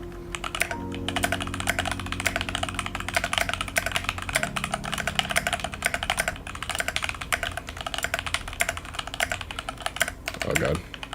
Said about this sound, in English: Let's do a typing test, actually.